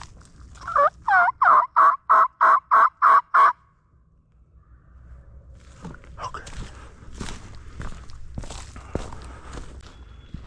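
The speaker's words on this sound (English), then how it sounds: "Just heard them gobbling." Wild turkeys gobble in a rapid burst of about eight loud, rhythmic calls in woods near a roost area, followed by rustling footsteps and movement in the underbrush.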